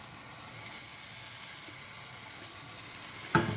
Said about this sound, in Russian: сковорода у нас горячая, масло быстро-быстро ушло. И мы сейчас выкладываем на сковороду наш лучок